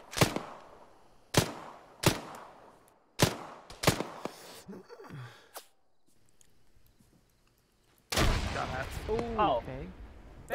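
Grenade-launcher fragmentation grenades explode in a video game, a series of sharp, close blasts at irregular intervals followed by a lull, then heavier rumbling detonations with voices talking over them.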